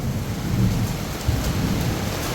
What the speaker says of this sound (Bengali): টিনের মধ্যে শব্দ হইতেছে এই ঘরে ঢোকার শিলা পড়তেছে